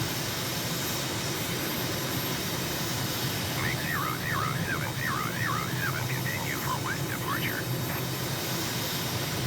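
An airplane climbs out after takeoff in Microsoft Flight Simulator, its engine a steady broadband roar with a faint higher wavering tone partway through, continuous and moderately loud.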